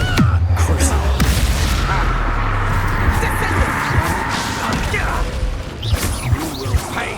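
Confringo fire spell detonating in Hogwarts Legacy combat: a loud, dense blast with a rumbling low-end boom that sustains for several seconds amid clattering game effects, with voices heard in the mix.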